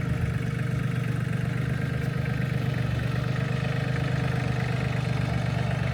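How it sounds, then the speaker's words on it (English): A tractor engine runs at a steady idle, a loud low mechanical rumble that stays constant and close throughout while work on garden arbors goes on outdoors. "This is why we have a tractor, so we can do stuff like this."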